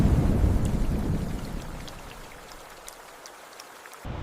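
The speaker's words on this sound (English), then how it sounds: "The sky breaks open as torrential monsoon rains hammer the land." Torrential monsoon rain pours down over land beside a river channel in the Terai, a dense steady roar of downpour that gradually eases, with scattered sharp drops and a low rumble of thunder.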